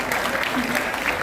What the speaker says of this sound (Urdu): تالیاں زور سے بجاؤ نا یار.